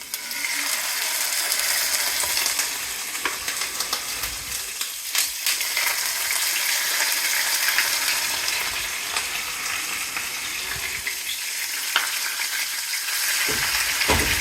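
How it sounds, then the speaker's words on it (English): Center-cut pork chop searing in oil in a hot pan: a loud, continuous close sizzle and crackle with scattered scraping ticks, no voices heard. "You always want to make sure you sear them off first because that develops the flavor in the pork chops"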